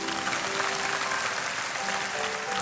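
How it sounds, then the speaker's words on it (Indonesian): Dense, steady applause from a church congregation during a worship service, a continuous loud wash of clapping hands filling the room for the whole stretch. "Kasih tepuk tangan untuk Tuhan Yesus"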